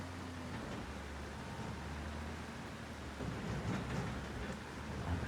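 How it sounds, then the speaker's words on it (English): Steady rain falling in Farming Simulator 25 on the BR-163 map, a constant broadband hiss that swells slightly louder in the last two seconds, with no talk over it. "I think the rain is meant to clear up."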